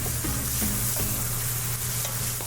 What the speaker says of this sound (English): It's going to help get all that flavor out the bottom of the pan. Get all that good stuff off with your spatula.